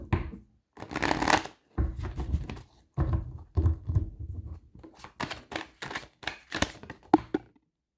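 Tarot cards being drawn and laid out on a table in a series of crisp, close shuffling slaps and brushes, irregular in rhythm and quiet overall, with no talk.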